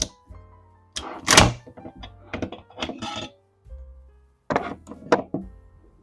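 Metallic clacks and sliding thunks from a WellPro PP-19-01 Vityaz gas blowback airsoft gun as its recoil spring and bolt carrier are slid out, a series of separate close handling noises with quiet pauses between them.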